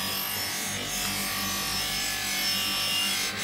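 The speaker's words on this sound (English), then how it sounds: "That's the polishing compound that's being used just to polish it up." A buffing brush with polishing compound works the chrome on a Haro BMX bike, giving a continuous close rubbing, whirring hiss that swells slightly and holds steady throughout.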